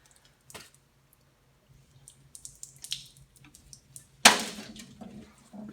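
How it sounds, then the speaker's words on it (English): Acetone poured straight onto a spray-can paint job, a sudden close splash and trickle of liquid after scattered faint drips and small handling noises. "we're just going to pour it directly on to the paint"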